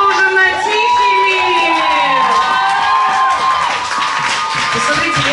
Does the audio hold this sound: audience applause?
yes